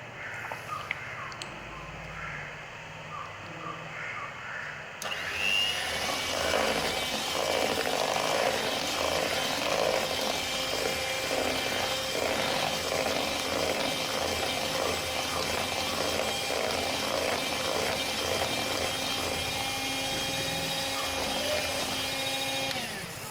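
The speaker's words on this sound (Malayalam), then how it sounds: "ഇതൊന്നുകൂടി ഒന്ന് ബീറ്റ് ചെയ്തെടുക്കാം" An electric beater whirs steadily while mixing white forest cake batter, starting abruptly after a few quiet seconds and then running continuously up close.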